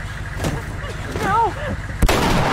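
A single sharp shotgun blast in the video game The Last of Us cracks out near the end, following a stretch of background game sounds and voice-like calls.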